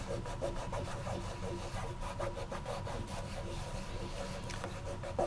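A steady, continuous rubbing and scratching of leather goes on without a break, close and fairly loud, with a slight rasp to it and no voices.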